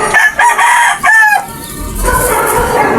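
A rooster on a Filipino poultry farm lets out a loud, close crow with two sharp rising calls, then a drawn-out tail, followed by soft background noise.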